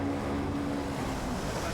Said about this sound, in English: Lots of choppy water, a lot of spectator boats, a lot of commercial craft on the harbour today